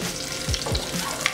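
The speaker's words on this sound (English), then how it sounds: "the smell of garlic when it's being fried like this" Garlic sautéing lightly in oil for a Japanese Napolitan pasta, a steady close sizzle with a couple of low knocks from the pan in a short burst.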